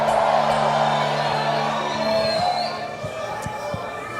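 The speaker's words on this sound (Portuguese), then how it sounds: "dê mais um grito de glória ao nome do Senhor Jesus" A church congregation raises a shout of glory to Jesus. It comes as a broad, loud wash of crowd voices, with a sustained tone underneath that fades after a couple of seconds.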